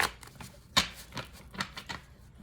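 Cards are drawn one at a time from a deck during a reading, giving a series of soft, crisp slaps and slides spaced about every quarter second, close and fairly quiet with no talking.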